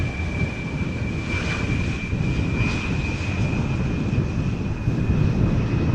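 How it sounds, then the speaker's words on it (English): A KLM Embraer 175 jet lands at Schiphol Airport without reverse thrust, a loud steady engine roar with a thin high whine running through it. Wind buffets the microphone throughout. "KLM flight 1800 arriving from Düsseldorf, Embraer 175, 31 minutes it has flown to get here"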